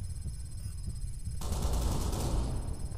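Ghost Recon Online gunfire crackles in a loud burst midway, layered over a steady noisy game soundscape with no speech.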